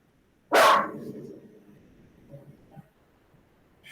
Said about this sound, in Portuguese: O cachorro começou.